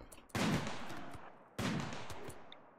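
Two loud bursts of gunfire in the colony-building video game RimWorld, each a sharp broadband onset that decays over about a second, no talking over them.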